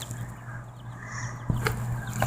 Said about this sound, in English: The chickens over there.